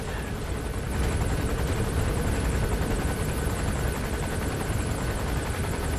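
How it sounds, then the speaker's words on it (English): A helicopter in the video game Metal Gear Solid V: The Phantom Pain, its dense, continuous rotor and engine roar holding steady with no talk over it. "That helicopter just won't go away."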